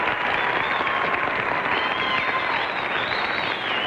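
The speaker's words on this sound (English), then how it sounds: "So let's give Byrne a hand, shall we?" Steady studio audience applause at a 1952 television game show, a continuous even wash of clapping heard alone with no talk over it.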